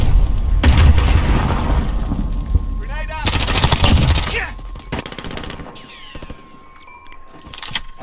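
A grenade blast and bursts of gunfire in the Call of Duty Modern Warfare beta, loud booming impacts and rattling shots with brief quieter gaps, voices heard between.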